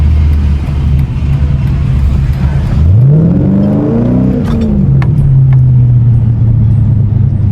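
A Chrysler 300 fitted with a cold air intake revs hard, a loud rising engine note climbing and sweeping back down before settling into a steady growl close by.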